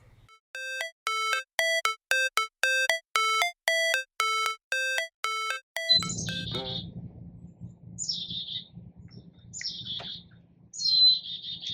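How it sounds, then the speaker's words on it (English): An electronic chime rings in a quick repeated pattern, then birds sing in an outdoor garden. Their bright chirps and trills come in separate bursts over a low background hum. "You hear the birds singing right now?"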